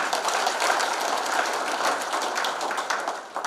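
An audience applauds at a regular general meeting of a retired municipal officials' association, with dense, steady clapping that fills the room at close range for several seconds before tapering slightly at the end.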